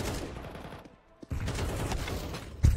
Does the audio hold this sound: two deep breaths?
no